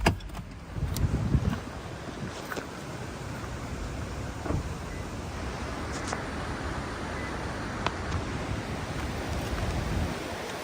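Steady broadband rushing of a river near Falls Creek at Milford Sound, New Zealand, a constant wash of flowing water heard close and unbroken, with a few faint knocks and no voices.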